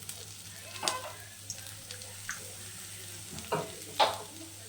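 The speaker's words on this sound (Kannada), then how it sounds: "ಸೊ ಸ್ವಲ್ಪ ಎಣ್ಣೆ ಹಾಕ್ಕೊಂಡು ಫ್ರೈ ಮಾಡ್ಕೊತೀನಿ" Ingredients fry in a little oil while making chicken sambar: a soft, low sizzle runs underneath, broken by a few sharp clinks and scrapes of a spoon against the pan.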